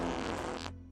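A cartoon fart sound effect from the 2003 Teenage Mutant Ninja Turtles animated series, a loud, sustained buzzy blast that runs about two-thirds of a second and then cuts off abruptly, with no talking over it.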